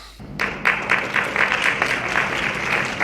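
An audience applauds at a promo event, clapping bursting in suddenly and then continuing as dense, lively rhythmic clapping at close range.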